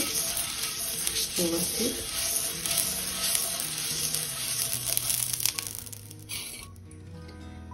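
Ghee sizzles and crackles steadily on a hot pan while being spread with an onion for a foxtail millet dosa, a constant frying hiss with soft scraping, someone speaking briefly over it.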